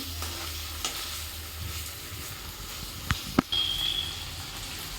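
Food stirred in a sizzling cooking pan: a continuous hissing fry under a low steady hum, with a couple of brief scraping knocks from the utensil near the end.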